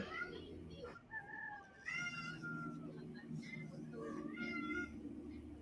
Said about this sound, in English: they're all three meowing at me as if they don't have food and water